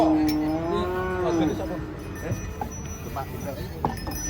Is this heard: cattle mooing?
yes